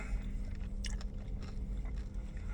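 Close-up crunchy chewing and biting into a gas station fried chicken drumstick, with a few crisp crackles over low background hum, no talking.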